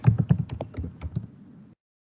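Close keyboard typing as a JavaScript file name is entered, a quick irregular run of crisp key taps that slows and stops, followed by silence.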